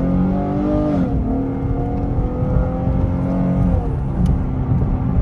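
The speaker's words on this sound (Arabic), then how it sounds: "وهسه وصلنا راح نشوف تسارع الكامارو" A Chevrolet Camaro accelerates hard, its engine roaring loud and close with a steady climbing drone and gear-shift dips around one and four seconds.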